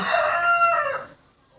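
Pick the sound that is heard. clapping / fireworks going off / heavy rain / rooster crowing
rooster crowing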